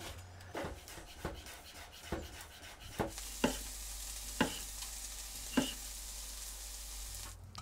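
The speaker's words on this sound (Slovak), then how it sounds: "V horúcej panvici orestuješ slaninu, neskôr prihodíš cibulu a cesnak." Bacon, then onion and garlic, frying in a hot pan, a continuous close sizzle broken by evenly spaced scraping and tapping stir strokes, with no voices.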